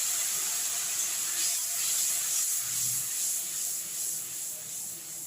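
Tomato paste sizzling in hot oil with turmeric, a steady close hiss with soft crackling that holds evenly and eases slightly toward the end.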